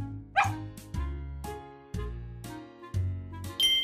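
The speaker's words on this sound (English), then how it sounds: "I hear a dog." A dog barks about seven times in a steady, evenly spaced series, each bark short, clear and fairly loud, with no talking over it, as used in a children's animal-sounds lesson.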